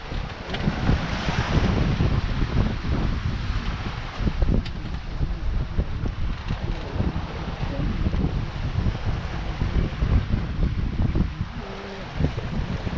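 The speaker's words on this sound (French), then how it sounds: "il y a un bon vent d'environ 20 nœuds. Une mer assez formée" A strong wind of about 20 knots roars across a sailing boat on a rough sea off Île Rousse near Calvi, a constant heavy buffeting rush with water churning and slapping beneath it, with no voices.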